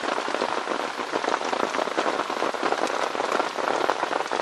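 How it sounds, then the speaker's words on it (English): Steady rain falls across a surface in a dense, even patter of countless drops, constant and close without pause. "just lay down and listen to the rain"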